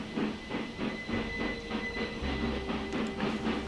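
Trains rumble along the tracks in the Railway Empire 2 video game, a steady rolling clickety-clack with rhythmic wheel beats, hissing steam and a low engine drone, close and continuous with no talking.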